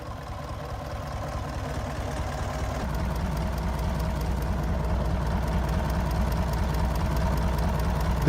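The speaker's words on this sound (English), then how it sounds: "The D232 V8 is a robust, air-cooled, 8-cylinder V-type diesel engine designed for industrial and heavy-duty applications." Air-cooled D232 V8 diesel, an eight-cylinder V-type industrial engine, idling: a steady low rumbling chug with a fast even pulse, growing slightly louder partway through, close and continuous with no talking.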